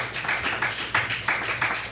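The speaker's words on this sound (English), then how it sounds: "Please, yes, you can clap" Audience at a board of trustees meeting clapping in a hall, several people applauding with a few sharper bursts of claps standing out, moderately near, no talk over it.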